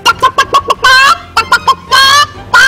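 Cartoon chickens in an animated film about the first winter snow cluck loudly and closely in quick bursts, with a few longer squawking calls between the short clucks.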